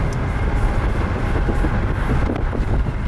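Train passing close by on National Train Day, a loud continuous rumble with rattling wheels and cars, buffeted by wind noise on the microphone.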